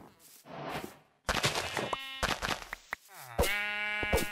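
A flock of Minecraft sheep bleating, with a few soft sounds leading into a run of loud, wavering bleats that come in bursts, close and unaccompanied by talk.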